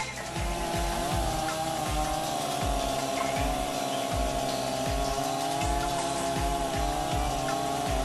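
A chainsaw with a freshly sharpened chain cuts straight through wood, its engine holding a loud, steady high-pitched whine close by for the whole stretch, with a faint rhythmic pulsing underneath.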